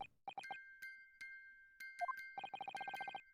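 Music box in The Great Ace Attorney Chronicles chiming a sparse run of bright metallic notes, some single and spaced, then a quick dense flurry of repeated tones near the end, clear and alone.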